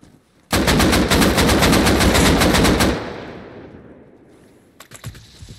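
An M2 fires in Rust Console Edition as a long, loud, rapid burst of machine-gun fire. The burst fades into an echoing tail, and a few more quick shots follow near the end.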